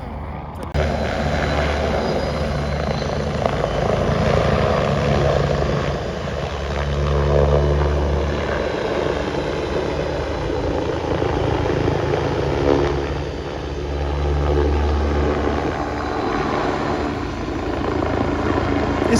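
A Bo 105 helicopter's rotor thumps and whines steadily overhead at an airshow training day in Leszno, a loud, continuous drone with a rhythmic beating that swells and fades slightly as it flies.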